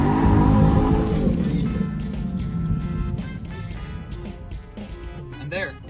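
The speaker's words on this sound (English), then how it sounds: "And there, it lets you do a burnout." A C8 Corvette in burnout mode, engine roaring loudly at the start and then settling into a lower rumble with tire noise, while someone talks over it.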